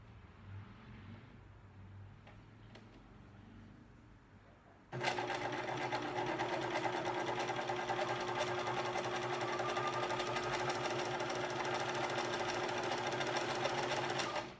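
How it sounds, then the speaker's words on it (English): A sewing machine fitted with an edge stitch foot runs steadily through fabric, starting abruptly after a few quiet seconds and then holding a loud, even, rapid whirring stitch rhythm to the end. "So I'm gonna sew this with my edge stitch foot."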